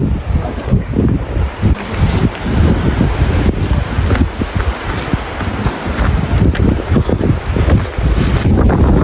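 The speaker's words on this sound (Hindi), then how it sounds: "ये पीछे देख रहे हो ये वसुधारा वाटरफॉल है" Vasudhara waterfall in Uttarakhand, reached on a mountain trail, gives a loud, steady roar of rushing water close by, with a constant rumble and no speech.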